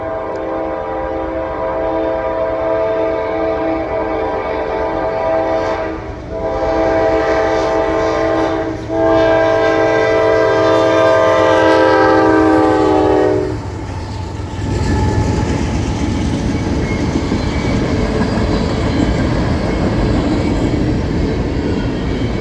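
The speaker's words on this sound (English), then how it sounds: "Empty trash train 62V coming from Mingo Junction, Ohio, with a trio of AC 44C6 arms." An empty Norfolk Southern trash train, the 62V from Mingo Junction, Ohio, led by three AC44C6 locomotives, sounds a loud sustained horn in several blasts, then its freight cars rumble and clatter steadily past up close.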